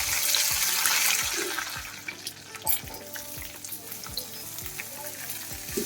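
Small pieces of food frying in a pan with salt sprinkled in, a steady close sizzle with occasional stirring clicks and scrapes, no talk.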